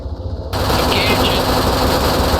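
Helicopter door gun firing at a bunker in a video game, a sudden loud burst of rapid automatic fire that starts abruptly and continues densely over the rotor drone, with a voice faintly underneath.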